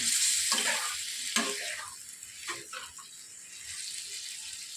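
Soaked sabudana being stirred in a hot pan for khichuri, giving a soft sizzle with scraping and stirring strokes in the first few seconds, then a quieter, continuous hiss.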